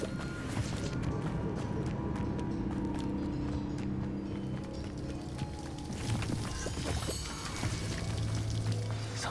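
A steady rushing waterfall in the Hogwarts Legacy game pours continuously at moderate loudness, a constant wash of falling water with faint scattered clicks and thuds over it.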